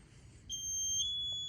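After a moment of quiet, an MSA G1 SCBA PASS alarm kicks in with a loud, shrill electronic tone that holds steady, piercing and continuous.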